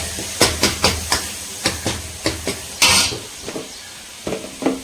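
Village-style goat intestine gravy with tomatoes simmers in a pan on the stove. Rhythmic stirring scrapes and taps repeat about every third of a second over a low, steady bubbling hiss, close and clear.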